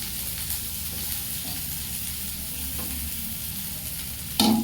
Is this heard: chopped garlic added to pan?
yes